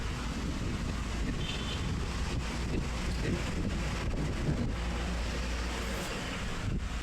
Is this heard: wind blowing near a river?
yes